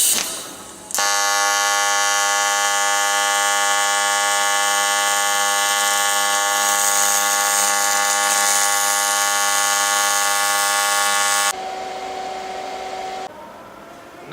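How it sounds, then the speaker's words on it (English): A Matrix 2200 AC/DC welder runs in AC mode on 6mm aluminium, giving a loud, steady, harsh electrical buzz that holds for about ten seconds before dropping to a quieter hum. "I'm now going to give you a demonstration of the Matrix 2200 AC/DC welding 6mm aluminium."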